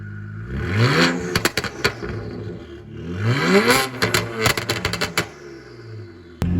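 An N54-swapped 2011 BMW 328xi wagon engine revs up twice in rising sweeps, each climb followed by a burst of rattly clatter as the revs drop, loud and close with no talking.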